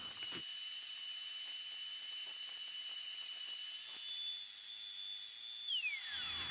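A pantorouter spins at high speed as it routes a wooden watch bezel, a steady, loud high-pitched whine with shrill tones and scattered cutting ticks, ending with a falling pitch as the cutter spins down.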